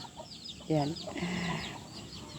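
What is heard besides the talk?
chickens clucking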